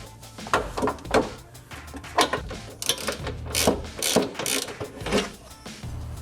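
A wrench loosens the rear lower tie bar bolt on a Honda Civic with a run of uneven mechanical clicks and ratcheting knocks, close and moderately loud, with no speech.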